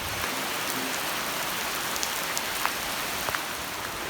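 Steady rain falls outdoors during a run, a dense, even hiss of drops hitting the ground with a few sharper nearby splashes, with no voices heard.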